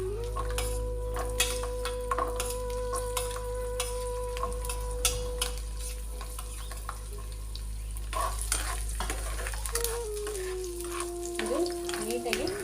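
Peeled garlic cloves fry in a pan with a steady close sizzle, punctuated by clicks and scrapes of stirring against the pan and a faint tonal hum in the background.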